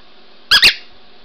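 A squeaky dog toy ball gives two quick, loud squeaks in close succession, close by, with no talking over them.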